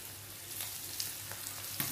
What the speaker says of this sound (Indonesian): Saya lagi goreng ikan teman-teman.